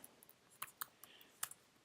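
Keystrokes on a computer keyboard while entering a command in a Terminal window, a handful of sharp, quiet clicks spaced irregularly over a couple of seconds, close and alone.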